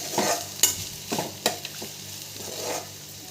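Onions frying lightly in a pan give a soft sizzle, broken by a few sharp scrapes and clicks of stirring spaced through the stretch, with no voices.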